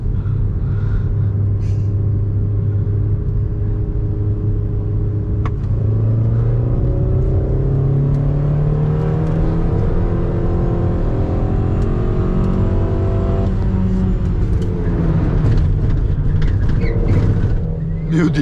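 A VW Saveiro pickup driven hard through curves, its engine drone rising and falling steadily under continuous road rumble from inside the cab, loud and close throughout.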